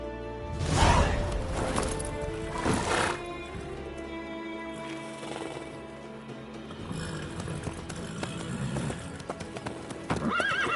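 A horse in The Witcher 3 clip-clops and whinnies loudly up close, hoof beats and a couple of neighs in the first few seconds, then quieter steady trotting under a faint game ambience.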